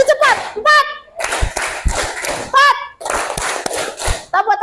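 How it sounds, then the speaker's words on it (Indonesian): A small group claps hands in short bursts at a motivational training session, the rhythmic claps alternating with a voice talking and calling out between them, fairly close and lively. "Tepuk tangan untuk kita semuanya"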